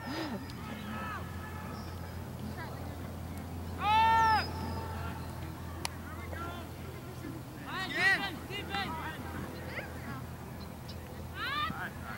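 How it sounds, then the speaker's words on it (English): A bird calls outdoors at a sports field in a few high, short warbling bursts spread across the stretch, faint against steady wind and a low background hum, with people talking nearby. "That was a bird."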